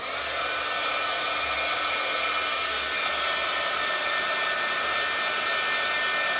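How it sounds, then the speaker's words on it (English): A heat tool blows hot air over a handmade birthday shaker card, a loud, steady, continuous whooshing hiss at close range with no talking. "I'm gonna hit it with the heat tool just one more time here"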